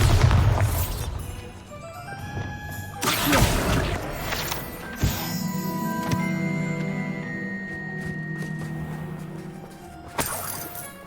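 A Bombarda blasting spell explodes in Hogwarts Legacy, with a deep booming blast and crackling debris, followed by lingering rumble and a second burst near the end over game sounds.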